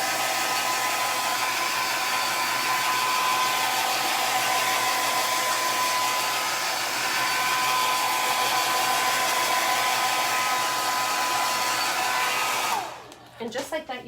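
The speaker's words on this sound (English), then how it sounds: "I am going to blow dry this really quick." A hair dryer blows steadily and loudly as it dries chalk paint on a wooden bread paddle, running continuously for about thirteen seconds before cutting off with a brief fluttering wind-down.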